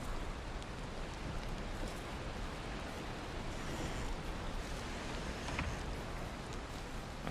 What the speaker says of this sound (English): I am just stuck in this rain with the cold